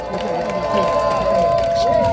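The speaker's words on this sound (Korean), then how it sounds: "말씀해주신 박용호감 당협위원장께 다시 한 번 힘찬 박수 부탁드리겠습니다." A crowd at an outdoor Korean political campaign rally makes steady, loud noise and cheers throughout, with a voice and tonal sounds carrying over the din.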